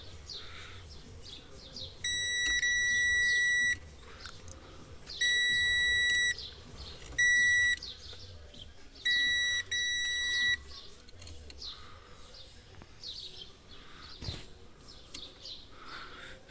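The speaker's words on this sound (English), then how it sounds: "We're going to check these main fuses for continuity." A multimeter on continuity test beeps in four separate tones, long and short, while checking main fuses on a Vauxhall Vivaro van after a gearbox replacement, with quiet workshop noise between beeps.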